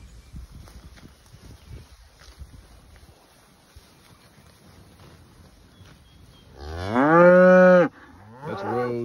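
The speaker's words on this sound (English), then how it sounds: "So anyway, these are the fall calving cows." Fall-calving cows in a grazing pasture. After a quiet stretch of faint wind rumble, one loud, close, drawn-out moo sounds, then a second call starts right after it.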